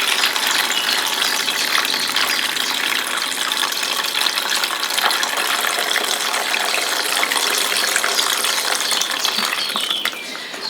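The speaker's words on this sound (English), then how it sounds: "going to fill up the system with water" Steady rushing and trickling of water pouring continuously into a living plant wall system's reservoir, a broad even wash with faint clicking, no voices, running unbroken to a brief dip at the end.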